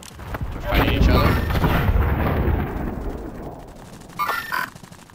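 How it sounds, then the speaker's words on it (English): Gunfire and booming shots in a video game battle, dense rumbling bursts for the first few seconds fading down, then a sharper burst near the end, with a voice speaking over it. "Yeah, they're shooting each other right now."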